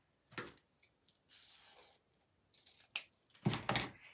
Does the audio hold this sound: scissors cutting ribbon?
yes